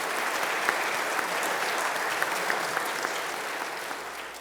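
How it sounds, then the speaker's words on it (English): An audience claps steadily for a panel of healthcare leaders at a live event, a dense, even round of applause with no voices over it that thins slightly toward the end. "let's give our incredible panel of healthcare leaders a big round of applause"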